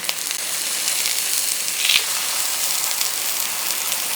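Thick eggplant slices frying in oil in a pan, a steady bright sizzle and hiss that crackles evenly throughout, close and fairly loud, with no voices.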